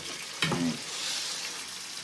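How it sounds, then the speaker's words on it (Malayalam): Four pieces of fish frying gently over a low flame, a steady soft sizzle with a brief louder stir or crackle near the start, close by and with no talk. "ഒരു 4 കഷ്ണം മീൻ ഇതുപോലെ ചെറിയ തീയിൽ ഉരിഞ്ഞുകൊണ്ടിരിക്കുക"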